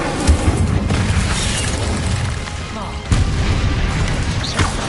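Fire spell Incendio cast in Hogwarts Legacy, a burst of roaring flame and booming impacts repeated in quick succession amid dense combat noise, with sharp hits near the start and around the middle.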